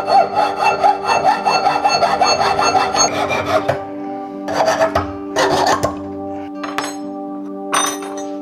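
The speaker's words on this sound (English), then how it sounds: "I finished the pieces ahead with the help of a drill and a rasp" Rhythmic rasping strokes as a rasp files the edges of 3D-printed piano stand pieces, quick back-and-forth scraping with short pauses between bursts, close by.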